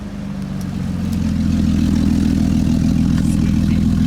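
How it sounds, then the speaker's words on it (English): A Jeep's 4.0 inline-six engine idles steadily and loudly close by, a deep even drone holding unchanged for the whole stretch, with no voices. "Car seems to be running fine"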